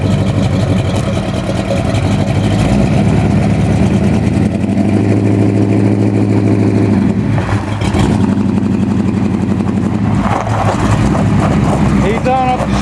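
A car engine runs steadily at a loud, even pitch as the car drives off under its own power after transmission work, with someone talking over the constant rumble.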